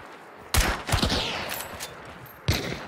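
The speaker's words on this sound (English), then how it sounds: "There's somebody else shooting at us" Gunfire in the game Hunt: Showdown: a loud close shot, a quick cluster of further shots with ringing tails, then one more sharp report near the end, no talk.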